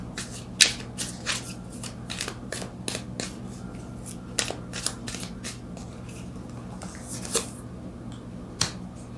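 A deck of tarot cards is shuffled by hand in a series of quick crisp riffles and flicks, soft and close, with short pauses between bursts.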